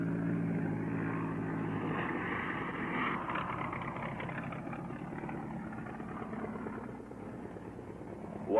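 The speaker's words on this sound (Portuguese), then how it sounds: "O avião traz homens e provisões" A propeller airplane drones steadily overhead in a remote forest setting, carrying men and supplies; a continuous mid-level engine hum holds throughout, fading slightly toward the end, with no talking.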